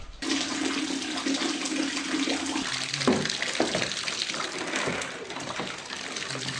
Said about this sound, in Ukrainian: замість світла з лампочок потекла вода